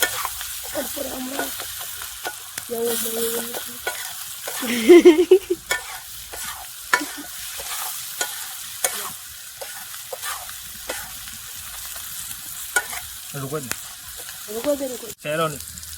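Onion and garlic frying in oil until browned, a steady sizzle with repeated stirring scrapes and spoon knocks against the pan, moderately close, with a few brief voice-like sounds in between.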